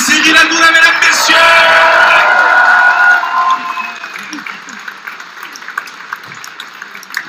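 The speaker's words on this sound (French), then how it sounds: "j'aimerais que vous fassiez un tonnerre d'applaudissements pour notre ami Cyril Hanouna" A studio audience gives TV host Cyril Hanouna a loud burst of applause and cheering that fills the first three seconds, then fades into scattered claps and murmurs.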